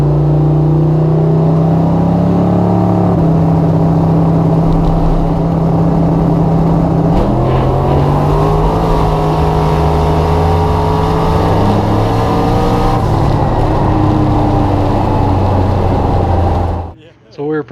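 A Mitsubishi Mirage daily driver nicknamed Megan makes a drag racing pass, its engine droning loud and close as the pitch climbs through the gears for many seconds before cutting off abruptly.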